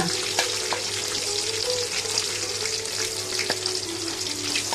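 Lote fish (Bombay duck) masala with ginger paste, onion paste, chopped onion and green chillies sizzles in a pan while a spatula stirs it, a continuous close frying hiss with occasional scraping clicks.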